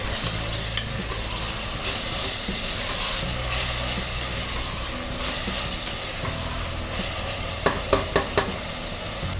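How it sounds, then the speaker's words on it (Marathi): Chopped tomatoes and onions sauté in a pan for a large one-pot soybean pulao, a steady close sizzle and hiss with stirring scrapes and a few sharp clicks near the end. "टोमॅटो ही छान परतून घ्यायचे."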